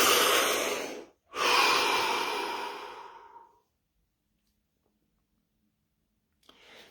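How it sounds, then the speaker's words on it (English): Two long, deep breaths, each a loud close exhale fading out, separated by a brief pause, then silence and a faint sound at the end. "Take a deep breath."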